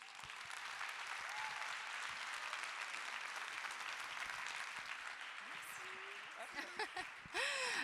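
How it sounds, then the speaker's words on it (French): An audience at a talk on women in artificial intelligence applauds the speaker, a continuous, evenly dense wash of clapping heard from a distance, swelling louder at the very end, with a voice briefly audible near the close. "Une pluie diluvienne d'applaudissements pour Laurence de Villers, s'il vous plaît."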